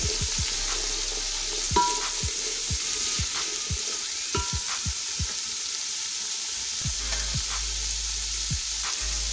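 Chickpeas frying in oil in a pot for chana pulao, a constant close sizzle punctuated by repeated sharp taps and stirring knocks at an uneven rhythm, no talk.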